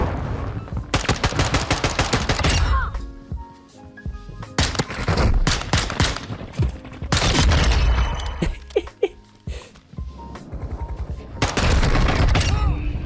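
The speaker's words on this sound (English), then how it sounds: "Grenade out." Call of Duty MW2 gameplay with loud, sustained bursts of automatic gunfire and booming blasts from a thrown grenade, the firing coming in dense waves across the clip with brief lulls between them.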